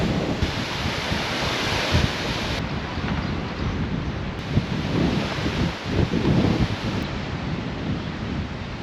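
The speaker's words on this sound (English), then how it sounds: "Crazy winds though, crazy." Strong wind in Spain roars and buffets the microphone in heavy gusts, a constant rushing noise with louder surges, no talking.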